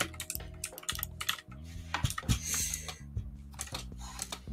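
Rapid, irregular keystrokes clatter on a new 60% computer keyboard with multicolored lighting, close and fairly quiet, with short pauses between bursts and no talking.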